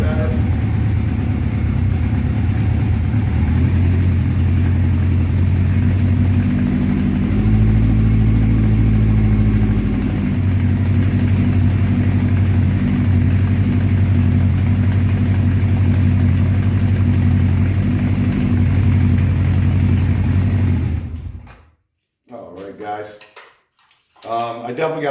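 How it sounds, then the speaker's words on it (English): A 1984 Honda CB700SC Nighthawk motorcycle idling after its carburetors were cleaned, a close, steady low engine drone that wavers slightly mid-way, then drops away near the end as a person starts talking. "It's warming up pretty quick. Once I get it warmed up, I'll set the idle a little better."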